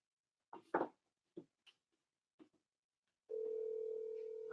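Telephone call ringing out while waiting for an answer, a steady tone starting after a few short clicks and knocks, clear and alone.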